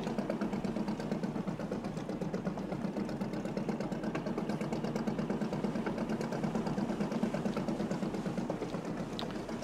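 A slow fishing boat's engine runs steadily on the Barents Sea, a constant low, throbbing drone with a fine mechanical rattle that holds an even level throughout, with no talking.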